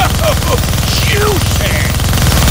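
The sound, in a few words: minigun firing in the Deadpool video game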